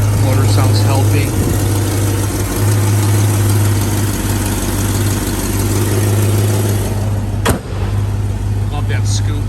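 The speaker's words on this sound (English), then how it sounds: "Listen to the motor. The motor sounds healthy." A 1965 Ford Mustang coupe engine idles steadily and loud, a continuous low rumble close by, with a brief knock near the end and faint talk in the background.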